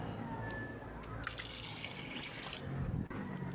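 Running water from a tap splashes and trickles into a sink at low level, with a brief faint voice partway through.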